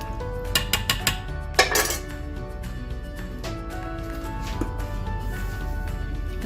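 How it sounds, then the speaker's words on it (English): Metal spoon clinks and scrapes against a pot while beef biryani with coconut milk is stirred, a cluster of sharp knocks early on, then steady background hum. "Just stir everything well."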